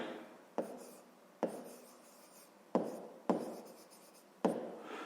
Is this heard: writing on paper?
yes